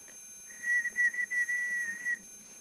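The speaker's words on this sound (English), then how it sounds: "And whistle." A single person whistles with lips pressed tightly together, a steady, clear high tone for about two seconds, with small breaks and wavers, close and alone with no talking.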